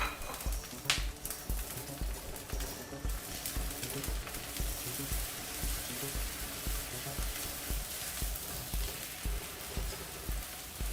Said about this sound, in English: Then the ginger and the green chili, and we're going to nicely saute.